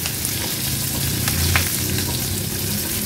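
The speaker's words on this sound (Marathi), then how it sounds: "आता अर्धा चमचा जिरं घालूया फोडणीला" Cumin seeds sizzle in hot oil as a tempering for a fasting-day Marathi dish, a steady, close crackling fry with a brief louder burst midway, no voices.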